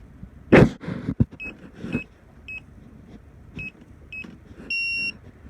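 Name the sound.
keypad lock beeping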